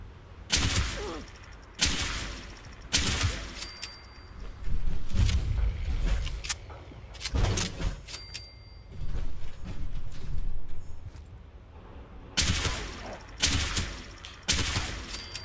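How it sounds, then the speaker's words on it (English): Gunfire in the video game Fallout 76, fired faster than a lever-action rifle: loud, close bursts of rapid shots in repeated volleys separated by short pauses, with game ambience between. "Also fire a lot faster than I can fire the lever action, which is nice."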